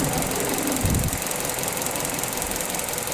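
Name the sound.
Mazda2 car engine running on hydrogen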